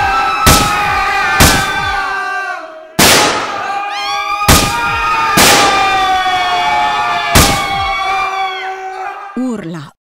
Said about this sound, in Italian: ad un tratto si udirono urla e spari.